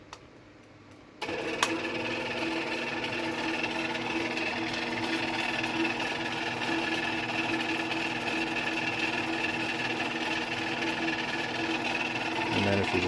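After a brief quiet moment, a Genie Model 209 chain-drive garage door opener starts up and runs with a steady mechanical whir and rattle, continuing evenly throughout.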